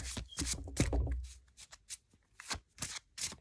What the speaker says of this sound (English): Spectator can just shuffle up the deck.